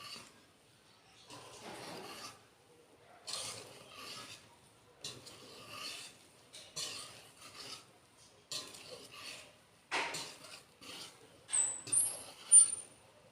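Cake batter mixed by hand in a bowl, giving faint, soft scraping and rubbing strokes in irregular bursts separated by short pauses.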